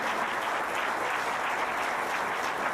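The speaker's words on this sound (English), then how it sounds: "She does deserve another round of applause" Steady, dense applause from an audience at the Ring of Champions 2021 awards speech, continuous and even throughout with no voices over it.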